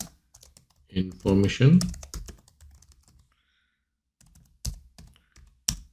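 Scattered keystrokes on a computer keyboard while writing C code, a few soft taps then sharper isolated clicks near the end, with someone speaking Bengali in the middle.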